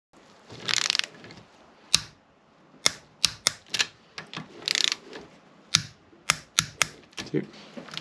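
A ratcheting torque wrench tightens the cylinder head bolts on a Yamaha VX110 engine under restoration, sharp separate clicks in small clusters with pauses between them, close and loud, while a person talks.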